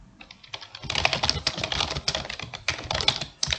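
Close, rapid clatter of fingers typing on a computer keyboard, a dense run of crisp key taps with brief pauses between bursts.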